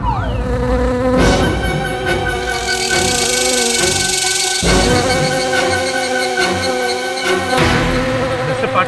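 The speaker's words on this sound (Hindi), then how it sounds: "पाटिल साहब, मक्खी मेरी ओर आ रही है।" A housefly buzzes steadily and loudly close by in a courtroom setting, its drone rising and falling as it circles, with no talk over it.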